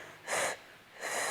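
Two close breaths drawn during a Pilates exercise, each a short hissing intake of air through the mouth, separated by a brief pause, fairly loud, with no talk.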